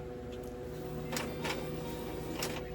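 A printer runs in a room, printing a page with a steady low mechanical hum and a few short whirring feed bursts, fairly quiet and with no talking.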